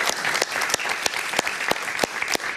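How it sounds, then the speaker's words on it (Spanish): Studio audience on Jaime Bayly's television talk show applauds a guest, Lourdes Jaimes, with steady, close, full clapping with sharp individual claps standing out throughout. "Un aplauso para ella, por favor."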